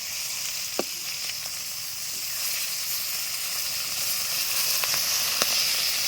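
Fish fries in a pan over an outdoor wood fire in a garden, producing a steady close hiss of sizzling oil broken by a handful of scattered pops, with no speech.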